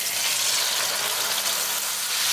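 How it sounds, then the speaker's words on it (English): A tadka for a shrimp and potato curry sizzles hard in a pan, giving a loud, close, unbroken hiss of hot oil with fine crackle throughout. "now we're going to cook our tadka really well."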